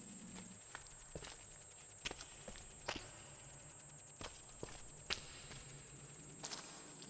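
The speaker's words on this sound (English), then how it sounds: "Those footsteps, yeah." Footsteps echo through a cave in the video game Scanner Sombre, a slow, irregular series of soft steps over a steady hum, faint and with no voices.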